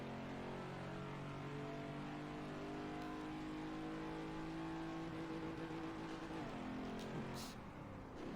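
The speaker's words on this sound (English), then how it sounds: "back on the throttle, squeezing the throttle more, full on the throttle." A Ford Mustang Mach 1 at full throttle on the Watkins Glen race track, a steady droning engine note heard from inside the car, rising slightly in pitch over several seconds and staying loud throughout.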